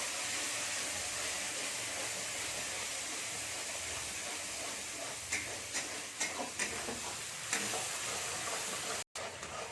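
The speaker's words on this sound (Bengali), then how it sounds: "দিয়ে এটাকে আমি ভালো করে নেড়ে নেবো" A ginger, garlic and tomato paste fries in a pan for a potato and pea curry, a soft continuous sizzle with several scattered scraping clicks from the stirring spoon partway through.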